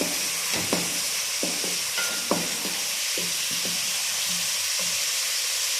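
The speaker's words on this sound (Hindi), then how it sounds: "एक बड़ी प्याज ली थी हमने जिसको हमने कद्दूकस कर लिया था, वो ऐड करेंगे। इसको अच्छे से हम फ्राई कर लेंगे।" Grated onion frying in oil in a kadai, a steady loud sizzle throughout with repeated scraping stir strokes of a spatula at intervals, no voices.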